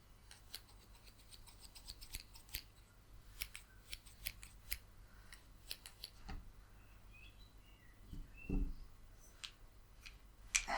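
Quick, repeated snips of scissors cutting, close and crisp, with a faint scratchy rub between cuts and a quiet background.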